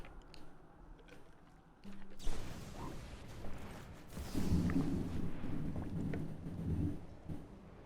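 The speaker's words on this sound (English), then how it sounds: "Loud Thunder. I think that one got picked up on the mic" Thunder rumbles outdoors from an approaching storm, a deep, rolling crash that swells in the middle and fades, moderately loud and distant, with no voices.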